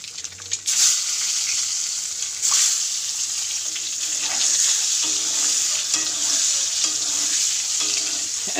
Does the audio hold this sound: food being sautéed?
yes